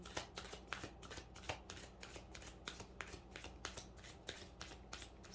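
Tarot cards shuffled continuously by hand in a steady, rapid rhythm of soft papery flicks and snaps, close and quiet, with no talking over it.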